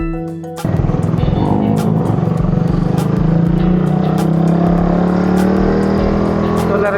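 A 2014 Suzuki Raider 150 motorcycle starts up about half a second in, then its engine hums steadily and loudly while riding, with a rising tone as it gathers speed.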